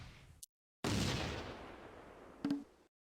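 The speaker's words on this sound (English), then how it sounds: "The front anti-tank gun locates and targets the enemy Granatwerfer squad to the south." An anti-tank gun fires at an enemy Granatwerfer squad in the WWII strategy game Close Combat: A Bridge Too Far, near Groesbeek. A loud blast rolls off into a long rumble, then a sharper second crack sounds before silence.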